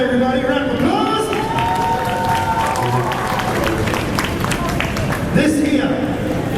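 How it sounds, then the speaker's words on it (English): A crowd applauds and cheers for a volunteer at a traditional Hawaiian ball game demonstration on Waikiki Beach Walk, steady clapping beneath someone speaking into an amplified microphone. "Round of applause."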